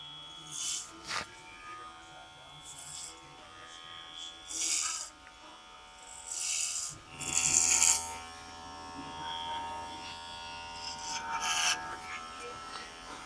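A KIKIDO rechargeable T-blade hair trimmer buzzes while trimming hair, its motor hum rising in several louder bursts as it passes through the hair, close by and moderately quiet, with a voice speaking at times.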